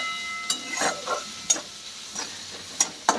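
Chopped onion for upma sautés in a pan with a soft frying hiss, broken by a few sharp spatula scrapes and taps against the pan at irregular intervals, quiet and close.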